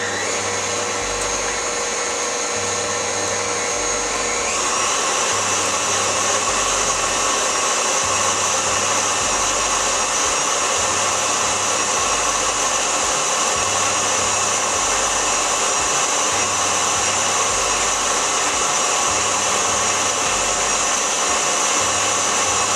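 An electric mixer whirs steadily through chocolate chip Nutella cookie dough, a loud continuous motor drone with a slight pulsing wobble as the beaters turn, heard alone without talk.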